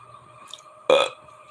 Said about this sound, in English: That's what I do. I belch.